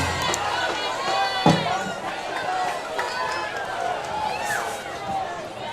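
A high school football crowd roars steadily at a night game, with a student section dressed in black for a blackout theme cheering on the Warriors. The dense crowd noise and shouting voices carry on throughout, with a brief louder burst partway through.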